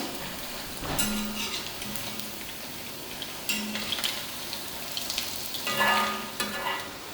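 Onion vada, a Kerala savoury snack, frying in hot oil with a steady sizzle while being flipped over, with scraping and clinking of a utensil against the pan in a few brief bursts.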